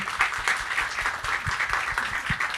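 An in-person audience at a live podcast event gives a dense, continuous round of clapping, steady and fairly loud throughout the short stretch.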